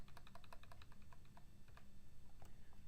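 Keys clatter on a computer keyboard while code is being typed, a quick irregular run of close, crisp taps with no talking.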